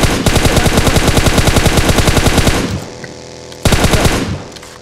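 Rapid automatic gunfire from a PUBG Mobile match, loud and close, with a steady burst of shots for nearly three seconds, a short pause, then another burst.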